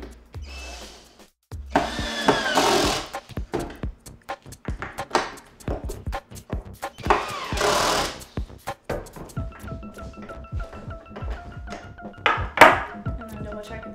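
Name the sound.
power tool tightening truck bolts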